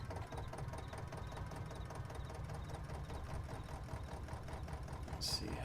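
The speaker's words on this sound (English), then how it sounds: "Let's go ahead and get our tractor parked back over." A tractor engine in Farming Simulator 22 idles and chugs at a low, even rumble, steady and fairly quiet, with a short bright click near the end.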